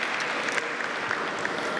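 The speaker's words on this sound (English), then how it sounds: "please give him a big round of applause once again" A dense, steady burst of audience clapping fills the hall at the Asia Startup Expo, sustained and fairly loud from many hands at once.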